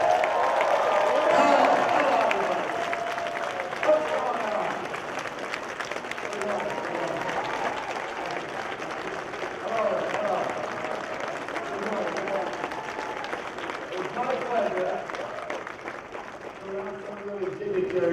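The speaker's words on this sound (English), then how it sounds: "Give them a big round of applause." Convention crowd at an Evil Dead reunion panel applauding and cheering, a broad continuous roar of clapping under a loud amplified voice talking throughout.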